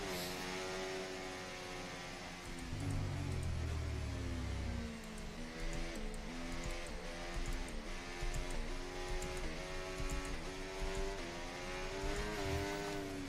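Formula 1 race car engine in F1 24 held on the pit limiter, a steady buzzing drone with a brief lower surge early on, continuous and close throughout.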